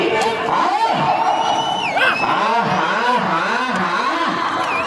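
A dense crowd at a Ramachandrapuram competition event shouts and cheers for the winners, with overlapping raised voices and whoops forming a loud, continuous roar.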